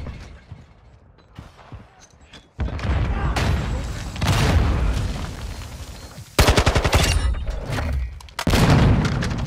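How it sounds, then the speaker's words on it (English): Loud explosions and rapid gunfire in Modern Warfare II 10v10 gameplay with a Kastov 545, heavy booming blasts and sustained bursts that rise and cut off abruptly, close and dominant. "What the heck was that explosion?"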